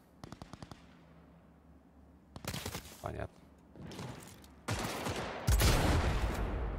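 Gunfire in Cyberpunk 2077: a quick rapid series of faint shots, then louder bursts and heavy volleys building toward the end, with a voice speaking briefly among them.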